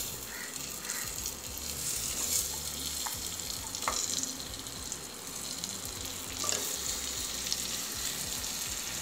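Cleaned mutton trotters sizzle in a hot pan with turmeric and cumin powder, a steady frying hiss with occasional crackles and stirring clinks, close and fairly loud, with no talk.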